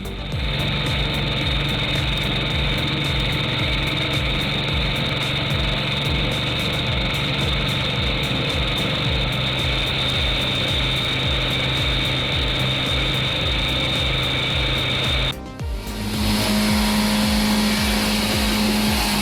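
A large, fast firewood processing machine runs with a loud, steady engine drone and a constant mechanical hum, its tone shifting abruptly near the end to a lower, steadier pitch.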